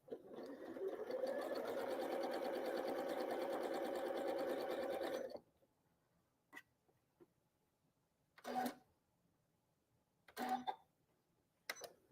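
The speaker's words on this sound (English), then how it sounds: "I'll sew that scrap." A sewing machine stitches across a scrap of quilting fabric in one fast, loud continuous run of about five seconds, followed by quiet with a few brief short bursts of stitching.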